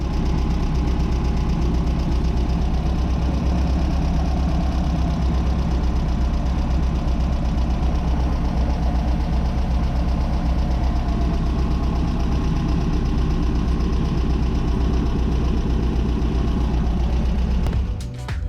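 A Pinzgauer 710K engine idles steadily after carburettor synchronization, a loud, even, continuous rumble with a slight knock, running alone until a brief disturbance at the very end.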